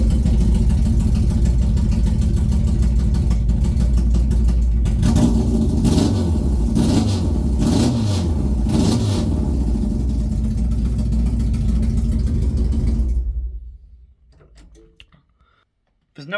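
A Ford Duratec engine in a Mk2 Escort with no exhaust fitted cranks and fires, then runs at a loud, raw, lumpy idle with a few throttle blips before cutting off into near silence.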